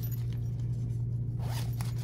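A zipper on a makeup bag is pulled in one quick close rasp near the end, heard over a constant low background hum.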